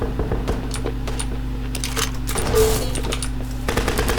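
Gunfire in a Texas farming sim shooter game, with a double-barrel shotgun in hand: rapid, busy bursts of shots and clatter over a steady droning game background, fairly loud and continuous throughout.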